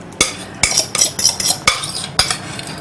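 A utensil scrapes and knocks against an empty metal saucepan while stirring a mixture, in quick, uneven strokes, sharp clinks repeating several times up close.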